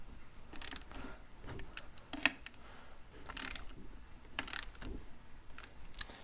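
Ratchet wrench clicking intermittently while tightening ring gear bolts on a Ford 9 inch rear end, with scattered short mechanical clicks and metal taps, close and fairly quiet.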